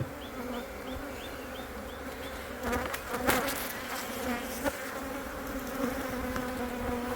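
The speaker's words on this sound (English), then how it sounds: "This one's an angry hive. This one's always been a little more active than the others." Honeybees buzz around an active, agitated hive opened for inspection, a dense close drone of many insects with louder passes and bumps of handling over the hum.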